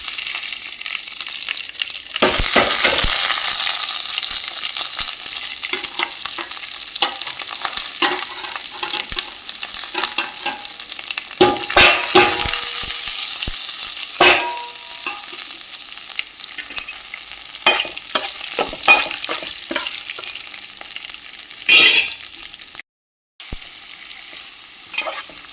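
Lentils and tempering spices sizzle and fry in hot oil in a pan, with a constant crackling hiss broken by the scrape and clatter of stirring at irregular intervals, close and fairly loud.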